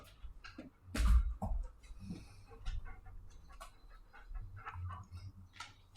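Dogs pant and whimper close by in a home, with soft breathy panting and a few brief whines and snuffles coming in uneven bursts.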